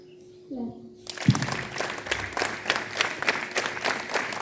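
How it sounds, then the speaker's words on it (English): Students at a school assembly break into a burst of group clapping on cue, a dense wash of many hands that starts abruptly after a brief vocal tone and carries on steadily at moderate distance. "clap"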